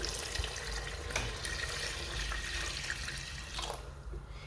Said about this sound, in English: I'll be going in with some water here to the quantity I want for my soup